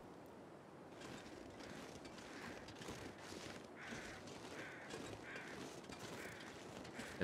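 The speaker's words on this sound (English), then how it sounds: "Got some birds." Crows or similar birds in the survival game The Long Dark, cawing several times at a distance over a steady wind-like ambient bed, the calls spaced out through the scene and fairly faint.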